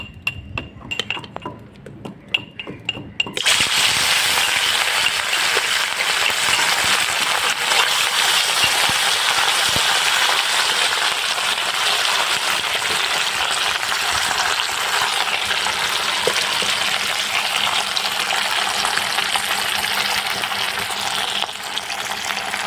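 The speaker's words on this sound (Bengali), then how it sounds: "এবার আমি তাহলে মাছটা ভাজবো।" Katla fish hits hot oil in a wok and bursts into a loud, steady sizzle that continues unbroken after a few seconds of quieter clinks, with faint utensil taps underneath.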